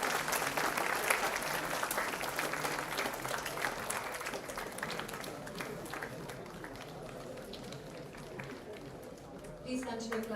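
Sustained applause from a large audience at an international conference, dense steady clapping that gradually thins and softens toward the end.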